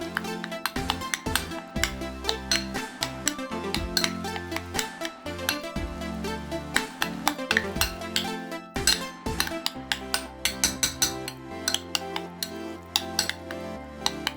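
Metal utensil repeatedly clinking and scraping against a bowl while garlic and salt are mixed into a pork and shrimp wonton filling, steady irregular taps close up with no talking.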